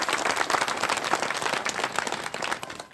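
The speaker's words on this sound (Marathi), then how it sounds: "आपण सर्वांनी महाराजांकरता एकदा जोरदार टाळ्या वाजवा" A crowd at a comic kirtan during an Akhand Harinam Saptah gathering claps in loud, dense, sustained applause for the Maharaj.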